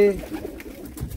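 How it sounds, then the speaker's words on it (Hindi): Large-breed pigeons give a short burst of low, throaty cooing, close by and fairly loud, lasting about a second. "एक से बढ़कर एक कबूतर बेहतरीन और लाजवाब सभी के सभी बड़ी नस्ल के कबूतर"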